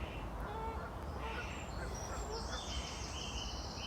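Geese or ducks honking and calling outdoors beside a fishing lake, mid-distance calls over steady open-air background noise.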